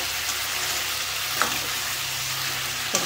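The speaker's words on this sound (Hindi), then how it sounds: "पाँच मिनट तक इसको फ्राई करेंगे।" Potato and cauliflower for an Indian-style sabji fry in a pan, a bright, even hiss of hot oil close by with a couple of soft stirring knocks.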